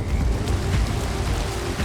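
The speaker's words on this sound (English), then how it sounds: "Of course it's raining." Rain falls steadily in a Minecraft game with a soft, dense patter, and a faint low rumble sits underneath. The sound stays even and moderately loud for about two seconds.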